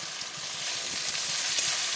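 Sliced brinjal and potato sizzle in hot oil with fried onion and green chilli as they are stirred in a pan, giving a steady, close, hissing fry with faint scraping.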